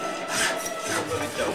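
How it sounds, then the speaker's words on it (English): Fine sandpaper rubs down a sealed, hand-carved Welsh wooden love spoon, making close, scratchy back-and-forth strokes with a few quiet pauses. "I'm just rubbing down now. A bit of fine sandpaper, and rub it all down."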